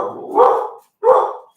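A pet dog barks indoors twice, loud and close, with two deep, full barks separated by a short pause.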